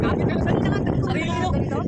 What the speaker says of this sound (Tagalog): dahil sa grabe hangin guys